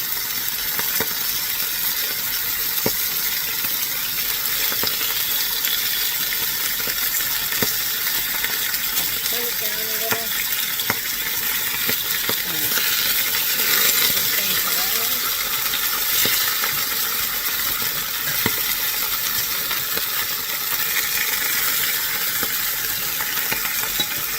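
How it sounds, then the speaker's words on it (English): Thin boneless pork chops frying in hot oil in a cast iron skillet give a constant bright sizzling hiss that holds steady throughout, with faint scattered spits and pops. "our oil is hot, so now we can start adding the pork chop"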